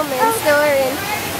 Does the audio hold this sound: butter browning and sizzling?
no